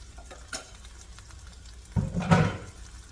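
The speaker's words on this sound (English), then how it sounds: "I'm gonna saute all of it." Onions sautéing in a hot pan: a low, quiet sizzle, then a short louder burst of stirring and crackling near the end.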